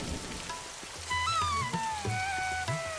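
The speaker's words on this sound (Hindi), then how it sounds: "बारिश तो कुछ ज्यादा ही हो गई है।" Heavy rain pours down steadily over a waterlogged farm field, a continuous wash of drops with some faint tonal sounds layered on top.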